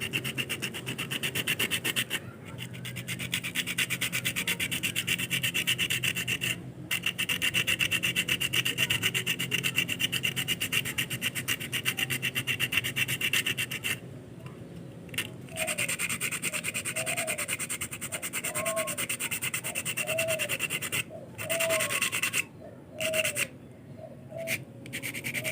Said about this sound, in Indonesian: Kita amplas menggunakan amplas kasar.